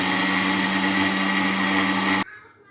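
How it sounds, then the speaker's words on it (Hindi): A blender grinds watermelon sharbat ingredients with a steady, loud whir that runs unbroken for about two seconds, then stops abruptly and leaves only a faint fading residue. "इन सब चीज़ों को मिलाकर आपने ग्राइंड करना है।"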